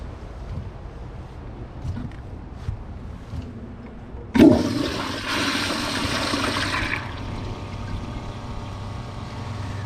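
A 2025 Kohler Pressure Lite toilet flushes with a sudden loud whoosh of pressurized water that rushes for about three seconds, then tapers into quieter refilling water.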